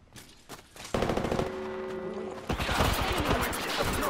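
Sustained automatic gunfire in Apex Legends, a dense rattle of rapid shots that starts after a few scattered cracks and keeps going loud and continuous, with a mechanical tone layered in for a stretch.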